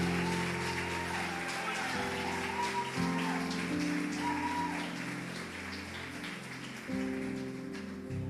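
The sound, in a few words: church congregation applauding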